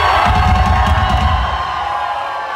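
A concert crowd at a live show at the Bourbon Theatre in Lincoln, Nebraska cheers and whoops loudly at first, then fades slightly as it carries on.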